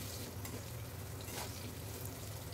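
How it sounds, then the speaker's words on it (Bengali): Potato pieces fry with salt and turmeric in hot oil, a steady close sizzle and crackle throughout with no speech. "এবার নুন আর হলুদটা দিয়ে আলুগুলোকে একটু ভেজে নেব।"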